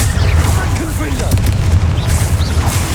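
In Hogwarts Legacy, a Confringo fire-blast spell detonates with a loud, heavy boom and a sustained low rumble, with a voice talking faintly over the blast.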